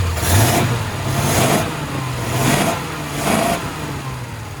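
A built flathead V8 engine in a 1939 Ford Deluxe Coupe, with freshly rebuilt and synced carburetors, revs repeatedly in slow surges, rising and falling about four times over a steady low rumble, close and fairly loud.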